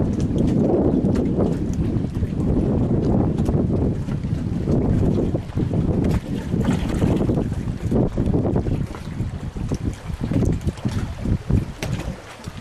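Speedboat with dual 2.4-liter Mercury Optimax racing engines runs at steady speed, a loud continuous rumbling drone mixed with heavy wind buffeting and water slap.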